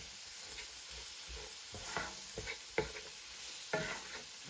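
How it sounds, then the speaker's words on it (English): Chopped celery sautéing in a pan for a spicy Cajun catfish courtbouillon makes a soft, steady sizzle broken by a few scraping stirs, quiet and close, with no one talking. "2 stalks of chopped celery. Now, want to saute this down."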